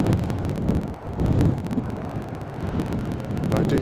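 Gusty wind buffets the microphone at Bristol Airport on a stormy December day: low, rumbling blasts that surge and ease in uneven waves, fairly loud and close, with no voices.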